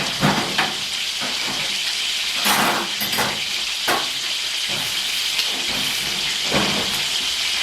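Prawns browning in a paella pan give a continuous close hiss and sizzle, with scattered louder crackles and light scraping throughout and no talk.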